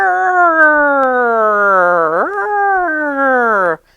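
A person imitates a siren, wailing in a long whine that slides down, jumps up, then falls again before cutting off abruptly, close and loud.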